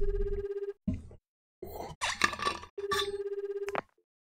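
A phone rings in the Tsukihime visual novel game: steady electronic ring tones come in regular bursts with gaps between them, clear and close. Short, sharp effects and noisy bursts cut in partway through.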